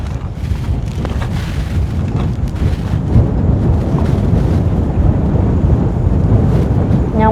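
Cool wind blowing steadily across an open outdoor spot with a scenic view, a continuous broad rushing and buffeting against the microphone throughout, fairly loud and with no talking.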